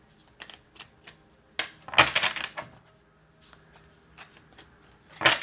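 Tarot cards are shuffled by hand in a quiet room, making a series of papery riffles and soft slaps that come in bursts with pauses between them, fairly close and moderately loud.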